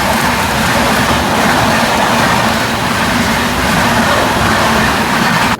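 A Cocanada Express passenger train, running slowly near Rayanapadu outside Vijayawada, makes a steady, loud rumble of wheels and carriage noise from inside the coach, with no voices.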